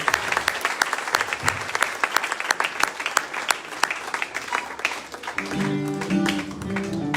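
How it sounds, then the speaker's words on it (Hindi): A church congregation applauds loudly at a Resurrection Day service in Ulwe, dense crackling clapping from many hands that runs steadily before thinning as music rises near the end. "जोर का ताली बजाइए।"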